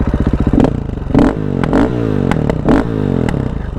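KTM 500 EXC-F dirt bike ridden on technical Colorado singletrack, engine close and loud with repeated sharp revving bursts and throttle blips over a steady chugging idle-like pulse.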